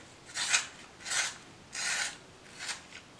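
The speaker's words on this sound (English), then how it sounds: "TGAAL sharpener. This is a nice sharpener." A pencil being sharpened in a TGAAL sharpener with an adjustable dial, giving four short close rasping bursts in a steady rhythm with brief pauses between, alone and without speech.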